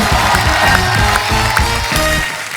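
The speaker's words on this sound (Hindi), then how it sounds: "आप सबकी जोरदार तालियों के बीच please welcome mister Bhuvan balm, mister Harsh Gujral and Dolly Singh. जोरदार तालियां।" A studio audience at The Kapil Sharma Show applauds and cheers for arriving guests, a loud, sustained wash of clapping and whoops that continues for the whole moment.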